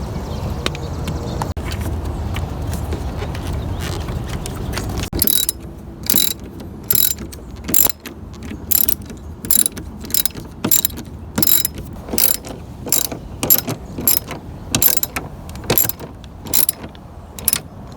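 A ratchet tightens the nuts on a 2002-06 Toyota Camry V6 passenger-side outside mirror: a low murmur at first, then rapid bursts of sharp clicking, repeated in short regular strokes, close by.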